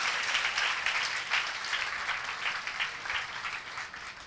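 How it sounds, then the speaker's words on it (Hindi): A church congregation applauds together, a sustained wash of steady clapping from a crowd at moderate distance, continuing evenly throughout without speech over it. "चाहे तो ताली जाके परमेश्वर को धन्यवाद दें।"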